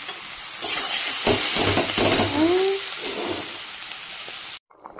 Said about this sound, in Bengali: তো জল দিয়ে দিয়েছি বন্ধুরা